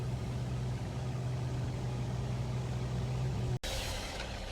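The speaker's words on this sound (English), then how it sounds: "All right, starting the engine." A Scania P410 XT concrete mixer truck's diesel engine runs at a steady low rumble for several seconds, then cuts abruptly, leaving a brighter, thinner hiss behind.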